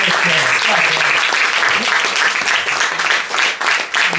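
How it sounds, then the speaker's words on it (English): Loud, dense audience clapping at a comedy roast, a steady roar of applause for the roast comedians lasting about four seconds and easing slightly near the end. "Give them all a big round of applause"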